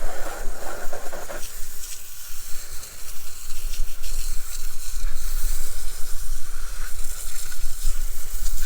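Water spray rinsing a car wheel and tire during detailing, a loud, steady broadband hiss running throughout with small surges in intensity, close up and without talk.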